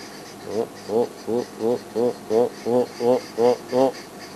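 A person voices a rapid run of about ten rising, nasal chattering notes in a steady rhythm, imitating an arrow-marked babbler's call up close.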